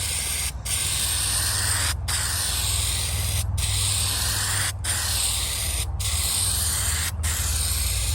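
Spray paint hisses from an aerosol can onto an old tool box in steady, loud bursts, broken by about six brief pauses between passes, with a low hum underneath.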